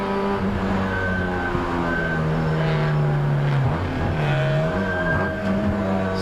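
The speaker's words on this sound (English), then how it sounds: "So these cars are crossing the line for effectively their 17th lap." Race cars in a wet 2018 MCS round sweep across the finish line on the 17th lap, engines droning loud and steady with pitch shifts as several pass close by, no talk.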